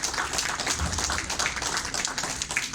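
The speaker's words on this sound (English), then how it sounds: "Can we give them an applause," An audience at a mental health and spiritual wellness talk claps steadily for about three seconds, a dense patter of hands at moderate volume with no speech.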